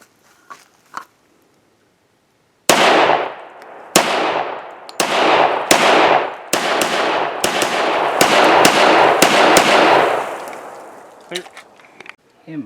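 An M45A1 pistol fires about ten sharp, loud shots in an uneven series, each crack ringing out with a short decaying echo after a few quiet ticks at the start.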